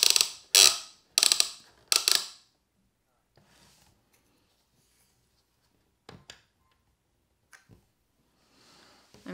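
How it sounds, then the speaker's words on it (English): A rapid burst of four harsh electronic beeps, then near silence broken by a few faint clicks and soft background noise. "I keep getting alarms."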